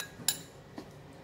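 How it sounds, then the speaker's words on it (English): Two ice cubes clink into a bowl or processor of beef ball mixture, a sharp bright chink followed by a softer second knock, close and quiet in an otherwise still kitchen. "Put in about 2 cubes of ice."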